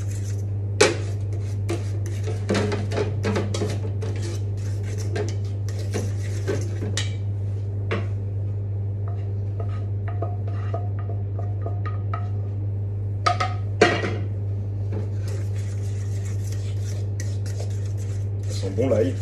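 A fork mixing garlic confit in a dish makes small scattered clinks and scrapes over a steady low hum, with a few sharper taps and a quiet voice now and then.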